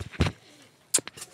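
Homing pigeons returning to their loft during training: a few short, soft coos and wing or body sounds, close by, with quiet gaps between them and no speech.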